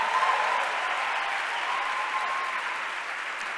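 An audience at a leadership session claps steadily in a dense, sustained burst of applause that fills the room and holds level throughout.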